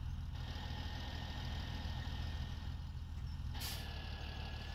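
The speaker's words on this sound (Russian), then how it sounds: "А тут трактора рычат." Tractor engine in Farming Simulator 17 rumbling at a steady low idle, a constant deep drone with no break and a brief hiss near the end, fairly quiet and alone.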